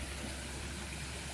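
Water from a mine pours through a roadside ditch in front of a house like a small waterfall, a steady, loud, broadband rushing that continues without a break and with no voices.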